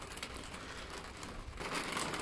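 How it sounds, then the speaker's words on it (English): Rain falling outdoors in a workshop setting, a steady dense patter with a crackling texture throughout that grows slightly heavier toward the end, with no voices. "Right, I've changed my mind. It's raining."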